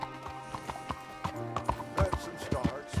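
Horse hooves clip-clop at a steady walking rhythm in Red Dead Redemption 2, close and clear over a faint musical background, with speech-like sounds mixed in.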